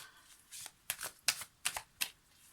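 Tarot cards drawn one after another from a pre-shuffled deck, about six quick, crisp papery slides and flicks, close and alone with no talking.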